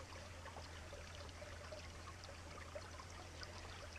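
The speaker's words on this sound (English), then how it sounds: "It still seems like the water flow just isn't as fast as it should be." Faint, steady trickle of stream water on a summer backpacking trail while water bottles are filled, a continuous soft flow with a low hum underneath.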